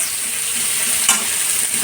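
Steady sizzling from a hot pan with a brief louder crackle burst as leafy greens drop in, no voices.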